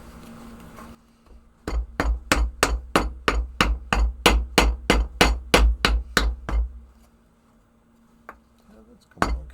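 Steel sheet hammered over the deepest point of a dome, a long run of about fifteen sharp, evenly spaced ringing blows, then a pause and one more strike; a low hum sits underneath.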